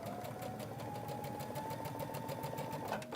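A sewing machine runs steadily, stitching a quarter-inch seam on a quilt block with the presser foot as the edge guide. The rapid needle rhythm carries loud and close throughout, with no talking.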